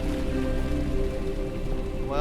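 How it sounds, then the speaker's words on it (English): Splashing through water in the dark horror game Amnesia: The Dark Descent makes a continuous, rain-like watery rush, fairly close and steady across the short moment. "Okay, we can make splashes."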